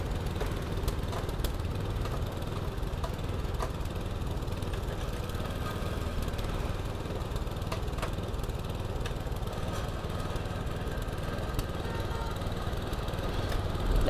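A used Japanese gasoline tiller engine runs steadily and close by for the whole stretch, a continuous mid-low motor drone with a slightly rough, chugging texture and no talk over it.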